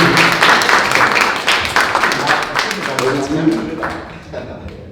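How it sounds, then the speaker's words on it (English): An audience at a book launch event claps for David, a dense burst of applause that slowly fades, with voices mixed in. "Come on, round of applause for David."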